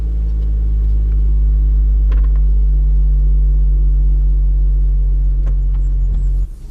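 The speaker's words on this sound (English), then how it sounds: "see how quick the roof comes down" A Mercedes-AMG E53 convertible lowers its roof while parked, a steady low mechanical hum and rumble holding for several seconds with faint clicks, then the motor drops off at the end.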